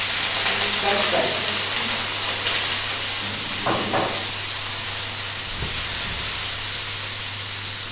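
Aubergine sizzling in hot oil in a frying pan: a loud, steady hiss and crackle, close up, lasting throughout with a few brief clatters and no speech.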